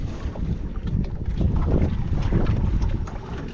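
Loud, gusting wind roars across the microphone, a heavy, buffeting rumble that builds slightly and holds steady.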